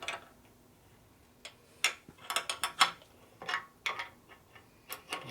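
Wrench clicking while a bolt is torqued down on a Harley shovelhead stroker big-bore motor, a series of sharp metallic ticks in irregular bursts, close and fairly quiet, no talking.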